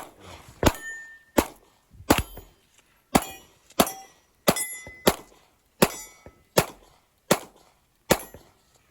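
Gunshots ring off steel targets at a two-gun shooting match, about a dozen sharp cracks each followed by a metallic clang, fired in a steady rhythm, loud and close with no talk.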